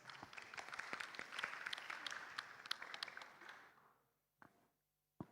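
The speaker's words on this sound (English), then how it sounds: "big applause for Cycle X" Audience applause at a sustainability leaders competition, a steady wash of many hands clapping that fades out after about four seconds, followed by a few isolated thumps in near silence.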